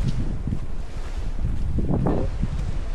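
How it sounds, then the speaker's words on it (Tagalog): Strong wind buffets the microphone with a constant low rumble and gusty surges, broad roaring noise outdoors at a beach by the sea with no talking. "Marami ng hangin dito."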